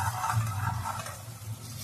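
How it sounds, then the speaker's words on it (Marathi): Onion frying in hot oil for a tempering, a soft steady sizzle at low level with faint stirring, short and without talk. "कांदा या तेलामध्ये फ्राय करून घेणार आहे।"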